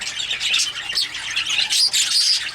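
Roosters and hens around six months old call with raspy, overlapping squawks and clucks, fairly close and continuous without pause, with no talking.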